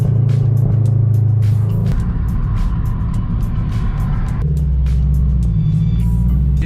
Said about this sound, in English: Once the car gets fully done warming up